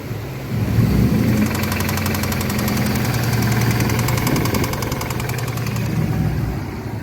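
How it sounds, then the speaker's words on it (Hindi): A car engine with a faulty crank runs with a rapid, even metallic knocking ticking over a steady low engine drone, loud and close, with no talk. "मैंने जाकर देखा तो गाड़ी का क्रैंक आवाज़ कर रहा था।"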